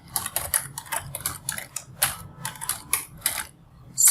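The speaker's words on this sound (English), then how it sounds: "I will type enhanceable content." Fingers type on a computer keyboard in close, clicky bursts of keystrokes, with short pauses between runs of tapping.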